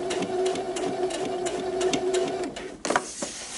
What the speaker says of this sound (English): We're now going to sew on the dashed lines on either side